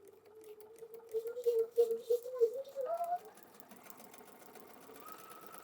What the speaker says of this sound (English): So let me meet you at the sewing machine. We'll sew that